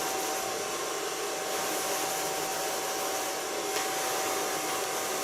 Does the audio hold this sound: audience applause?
no